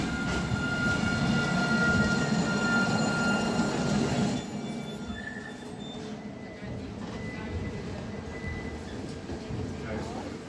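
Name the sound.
train arriving at Nottingham station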